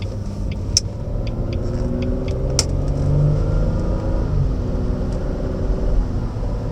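A Jaguar X-Type 2.5 V6 SE estate with four-wheel drive accelerates on the road, heard from inside as a steady low engine rumble that rises gently in pitch, with faint cabin clicks and no talking.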